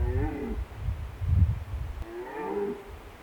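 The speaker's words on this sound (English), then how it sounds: "Our stag keeps roaring," A red deer stag roars during the rut in the wild Carpathian Mountains, giving deep, drawn-out bellows, two main calls with a low groaning burst between, fairly near and heard alone.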